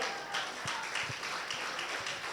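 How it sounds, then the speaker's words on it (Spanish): A church congregation applauds the Lord with a dense, continuous wash of hand claps and a few sharper slaps throughout, moderately loud and with no talk over it. "dale un aplauso al Señor"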